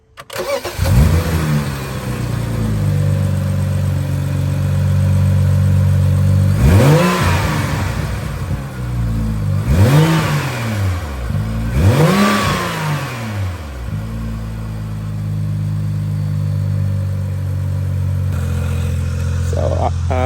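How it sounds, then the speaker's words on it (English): A BMW E92 335i with a loud exhaust idles loudly, then revs up sharply three times in a row before settling back to a steady rumbling idle. "Let's get some revs."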